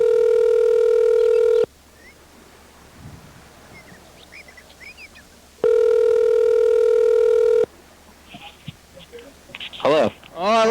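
A telephone rings in two long, loud electronic bursts separated by a quiet stretch, with faint background noise and brief sounds after the second ring.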